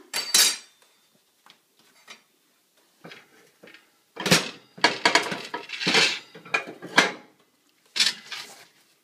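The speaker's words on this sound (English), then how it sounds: "we'll just use a little spatula here to loosen it" A spatula scraping and knocking against a pan to loosen a loaf of sourdough bread, in several separate bursts of metallic scraping and clatter with quiet gaps between them.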